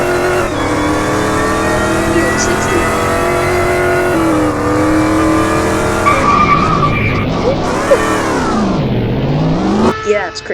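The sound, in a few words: Dodge Challenger drifting, tires skidding, in Car Driving Ultimate video game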